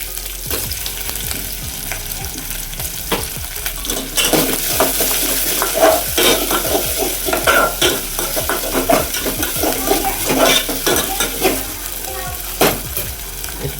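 Onion fried with garlic, ginger and coriander paste plus tomato for masala chicken biryani: a continuous close sizzle under frequent spatula scrapes and clinks against the pan, steady and fairly loud with no speech.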